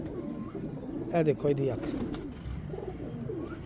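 A pigeon coos close by in a short rolling burst over a voice, with quieter murmured coos before and after.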